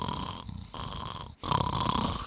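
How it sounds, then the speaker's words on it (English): A Minecraft player character snores in the game, a loud, raspy snore with two long breaths separated by a short gap, no talking over it. "I'm following the sounds of the snores."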